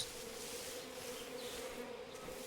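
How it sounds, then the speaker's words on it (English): A swarm of bees drones in Metal Gear Solid Delta, a steady, faint buzzing hum that holds evenly throughout with no other sound over it. "I hear bees."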